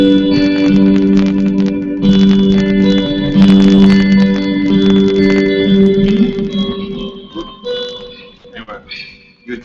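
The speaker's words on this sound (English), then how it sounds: "I have the shimmer effect actually built in, but it has the stereo wet reverb in there as well" Electric guitar through a New Neighbor Slate pedal with shimmer and stereo wet reverb plays sustained chords that swell into a lush, airy wash with a very long decay, fading out near the end with a few soft handling noises.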